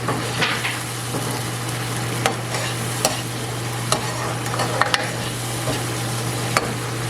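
Food gently cooking in a pan on a low heat, a continuous soft sizzle with scattered crackles and faint stirring clicks, plus a steady low hum in the background.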